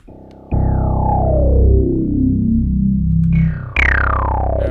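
A loud tone from the Thorn VST synthesizer plugin with its second oscillator on, buzzy and harmonic-rich, sweeps steadily downward in pitch, then restarts higher and falls again, like a metallic FM patch.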